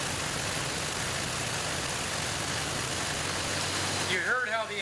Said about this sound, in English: You heard how the engine changed.